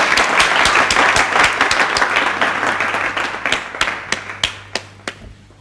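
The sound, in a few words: audience applause after a donation announcement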